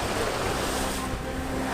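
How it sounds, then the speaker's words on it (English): Waves surge through a gap in a shallow, wind-exposed channel, a steady broadband wash of surf with wind noise buffeting the microphone throughout. "There's a bit of surge coming through the gap there. These waves are a lot bigger than they should be for this area."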